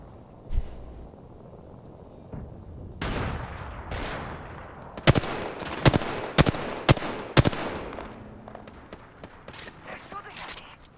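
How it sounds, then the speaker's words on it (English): Bursts of gunfire in an Apex Legends match: a spread of shots, then five sharp, evenly spaced cracks near the middle, with scattered quieter shots trailing after and faint voices underneath. "They're shooting at me."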